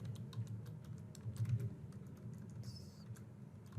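Someone types on a computer keyboard, entering a short name into a workflow app: a steady stream of close, light key clicks over a low room hum, with no speech.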